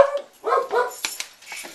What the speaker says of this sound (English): And the dogs are talking.